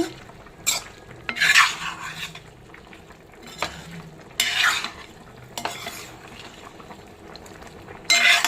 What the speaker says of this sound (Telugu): మసాలాలన్నీ ముక్కలకు బాగా పట్టుకునేదాకా వేగనిచ్చుకోవాలి.